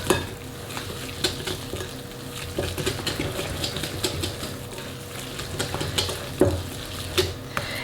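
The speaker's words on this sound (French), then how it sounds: "On va mélanger avec un fouet" A whisk stirs flour into melted butter for a béchamel, a steady scraping and tapping against the bowl with irregular clinks, close and moderately quiet, no voices.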